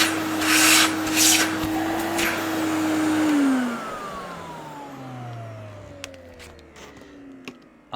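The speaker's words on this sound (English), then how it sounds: "So if I just switch it on," A Miele Accunova vacuum cleaner, fitted with a Hoover Aquamaster hose, runs with a steady motor whine and rushing airflow, close and loud. Its tone then slides downward as the motor slows.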